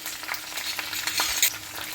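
Spices for a tadka crackle and sizzle in hot oil for an andhra-style tempering, a continuous close hiss with light stirring scrapes throughout.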